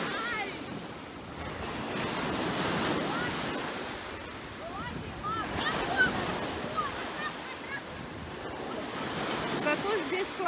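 Surf rolls onto a sandy beach at Lyubimovka in Sevastopol, with cold sea water. Waves wash in and out in soft swells of hiss, buffeted by gusts of wind against the microphone, steady and fairly close.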